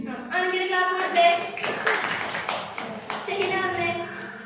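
Students in a biology demonstration class clap together in short bursts of scattered hand claps, mixed with children's voices talking over them.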